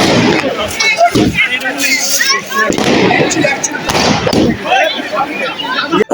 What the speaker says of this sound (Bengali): আতশবাজি ফাটানো শেষ